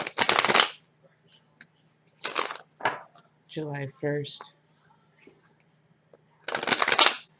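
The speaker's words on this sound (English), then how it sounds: "One more shuffle." Tarot cards are shuffled in several quick, crisp bursts of riffling, separated by pauses in which a person speaks softly.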